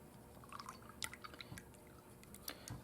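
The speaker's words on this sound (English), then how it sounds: "So let's wash out our brush." Paintbrush swished and tapped in a water cup while being washed out, giving quiet, close little drips, splashes and clinks in irregular bursts.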